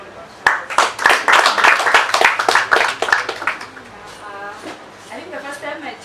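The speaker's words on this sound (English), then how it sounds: "I think we should give him a round of applause" Audience applause at a debate handover event, a burst of dense clapping from a crowd lasting a few seconds before fading as voices begin talking.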